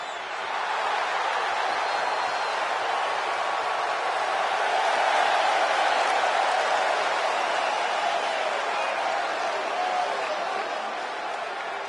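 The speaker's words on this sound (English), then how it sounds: "And just listen to that crowd." A WWE wrestling arena crowd roars and cheers for a Universal Champion, a dense, loud, sustained wash of voices filling the hall with no break.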